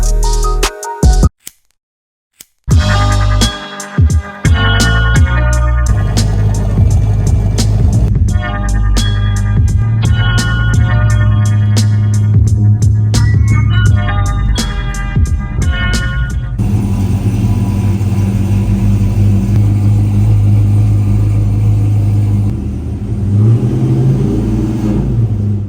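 A cammed Chevy truck engine at Atlanta Motor Speedway, loud and close, revving in repeated sharp bursts with a choppy lope before settling into a steady rough idle.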